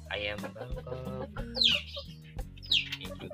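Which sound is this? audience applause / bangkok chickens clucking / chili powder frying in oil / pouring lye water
bangkok chickens clucking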